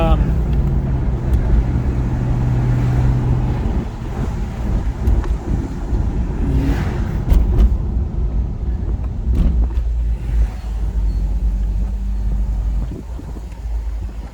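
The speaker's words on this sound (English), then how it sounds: "I believe it's the differential that's making some gear noise" Steady car road noise with a low droning tone and some wind buffeting, recorded inside a moving vehicle; a faint gear whine from the differential sits under the hum, present under throttle.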